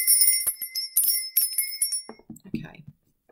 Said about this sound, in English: I am going to do my bell here